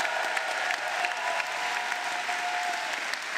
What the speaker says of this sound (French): Un tonnerre d'applaudissements pour Anthony Smith.